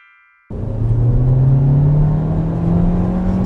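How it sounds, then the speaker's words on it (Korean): A Hyundai Kona 1.6 turbo SUV engine bursts in abruptly after a short silence and pulls loudly under acceleration, its rising drone steady and close for the rest of the clip. "이게 아반떼 스포츠에 들어가는 엔진인데 살짝 출력이 뒤틀이 되어 있습니다"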